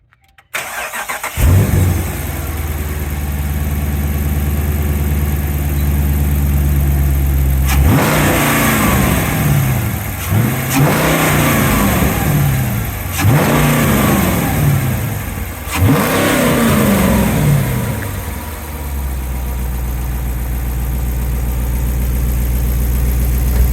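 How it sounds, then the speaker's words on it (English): A 2018 Dodge Charger with a 5.7 V8 and an AirAid cold air intake starts up and settles into a steady idle, then gets four loud, quick revs in a row before dropping back to a rumbling idle. "Let's go ahead and get a startup for the first time with a new intake on it. And I'm gonna give y'all a little couple revs."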